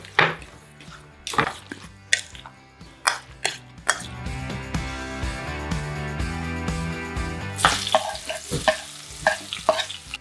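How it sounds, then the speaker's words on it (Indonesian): Spice paste fries in a pan for a tofu dish, with hissing sizzle and a run of sharp clanks and scrapes from a utensil. A steady humming tone sits under the middle stretch. "Ini kita tumis dulu bumbunya sampai setengah matang gitu."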